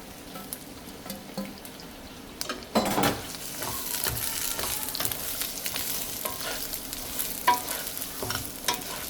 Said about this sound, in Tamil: நல்லா வதங்கட்டுமாங்க